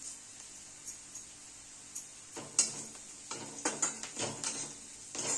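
Curry leaves dropped into a pan of roasting onion set off a soft, steady sizzle, with stirring scrapes and metallic taps building up in the second half, close and quiet.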